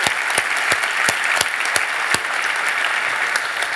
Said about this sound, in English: Big round of applause for Alex.